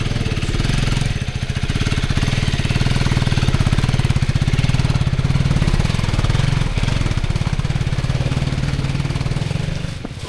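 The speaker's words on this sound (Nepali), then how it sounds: "बाइक चाहिँ यस्तो चालु गर्नुपर्छ" A motorcycle engine runs on a mountain village road in Myagdi, Nepal, with a rapid, steady thumping putter, loud and close, holding for several seconds with no voices.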